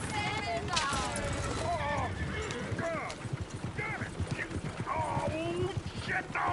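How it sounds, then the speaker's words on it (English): Video game horses pulling a coach whinny and squeal repeatedly over the clatter of hooves, with someone talking over the commotion. "Oh, shit, the horses!"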